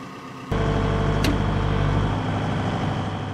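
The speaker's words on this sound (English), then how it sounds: "This is a big excavator, 2054 hydraulic road builder." A John Deere 2054D hydraulic excavator engine kicks in and runs at a steady, loud idle, with a constant low drone and one brief sharp click early on.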